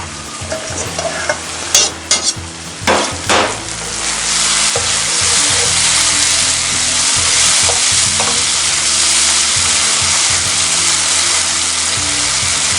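Butter sizzles with shrimp in a cast iron pan: a few utensil scrapes and clinks while stirring at first, then a loud, steady frying hiss close up, with no talking.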